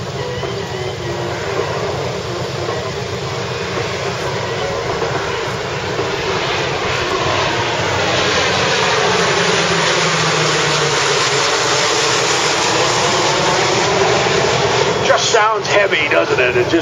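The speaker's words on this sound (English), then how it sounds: "Sounds heavy, doesn't it? That's a big airplane. That's a lot of airplane." A C-130 Hercules makes a low pass at the Great Lakes International Airshow 2013, its turboprop engines a loud, sustained drone that swells as it nears and passes close overhead.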